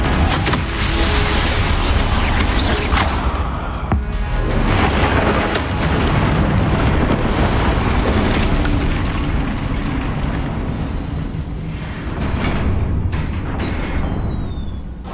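Loud, dense booming blasts of the Confringo spell in a wizarding video game set in a cave, repeated bursts filling the whole stretch with rumbling explosive noise and no talk.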